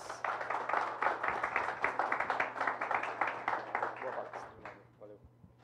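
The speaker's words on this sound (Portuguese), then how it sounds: "ajudem-me a receber com uma calorosa salva de palmas Fernando Nunes" Warm audience applause welcomes a speaker at a real estate business talk, dense rhythmic clapping filling the room before thinning out and fading near the end.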